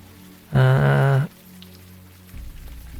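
Rain falling in a story video game, a steady soft wash of drops throughout, briefly covered by a loud tonal musical or voice-like sound near the start.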